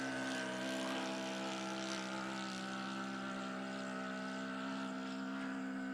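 A 28-year-old Piper J-3 Cub scale RC model airplane flying a loop, its propeller engine giving a continuous steady drone with a strong tonal whine, held at a constant distance throughout.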